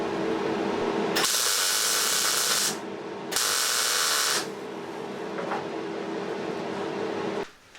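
A flat grinding wheel cleans down welds on the underside slam panel of a camper van, screaming in two loud bursts of about a second each, separated by a low hum.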